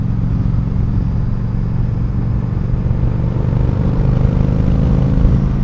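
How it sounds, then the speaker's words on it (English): Yamaha XVS 1100 V-Star motorcycle engine running at a steady idle, a deep continuous low rumble with a slight lift near the end, close and fairly loud, no talking. "it's a cool bike, sounds amazing"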